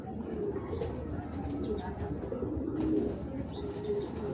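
A male Tota Bagha pigeon held up for viewing, with steady nearby cooing from it and other pigeons amid soft background chatter.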